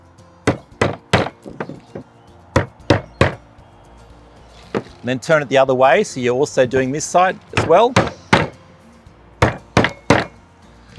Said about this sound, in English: we use either a mallet, a rubber mallet hammer, or you could just use a normal hammer